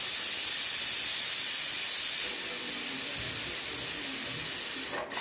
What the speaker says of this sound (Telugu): ఈ కుక్కర్లో ప్రెషర్ అంతా పోయేదాకా చెంచా పెట్టిన.